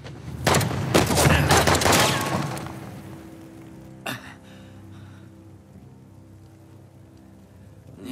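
A rapid burst of gunfire in the video game Uncharted: The Lost Legacy for about two seconds, then a single sharp shot, followed by a low rumbling background.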